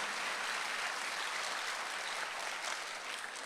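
A Sunday worship congregation at Jesus-centered church breaks into soft, steady applause, a dense wash of many hands clapping together, faint and distant, holding evenly throughout.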